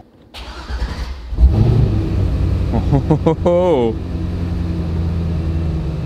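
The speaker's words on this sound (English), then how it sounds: "Let's see if we get this car started" A salvage Corvette cranks over and fires, then settles into a steady, fairly loud idle, with a warbling alarm chirping mid-clip and someone speaking briefly at the start.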